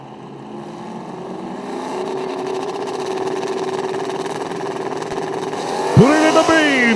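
Turbocharged drag race cars, including a 99 Mustang, at Rockingham, South Carolina, droning at the line before a sharp launch with rapidly rising engine sweeps, loud and close, under a track announcer's commentary.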